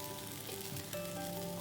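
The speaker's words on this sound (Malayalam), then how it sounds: "നമ്മൾ ലാസ്റ്റ് ടൈം ബ്രഷ് ചെയ്ത് കൊടുത്ത മാരിനേഡ് ഒന്നും കൂടി നന്നായിട്ട് ഫ്രൈ ആവാൻ വേണ്ടിയിട്ടാണ് ഇപ്പോൾ മറിച്ചിട്ടിട്ടുള്ളത്." Honey soy barbecue chicken frying in a pan, a faint, continuous crackling sizzle with soft irregular pops, steady and quiet from start to end.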